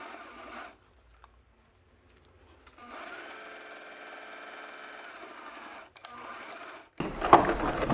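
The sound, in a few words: sewing machine stitching a small seam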